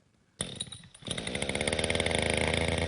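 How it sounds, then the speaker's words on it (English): A chainsaw used by tree trimmers starts up loud and close after a brief quiet moment, sputtering briefly before revving into a steady, roaring, buzzing drone that holds to the end. "he now has all the gear he needs to crank up the chainsaw and get started"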